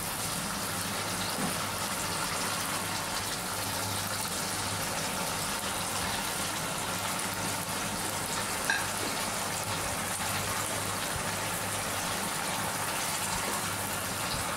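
Pabda fish cook in a boiling curry gravy in a kadai, giving a steady, close, unbroken bubbling sizzle that holds at an even level throughout with no voices.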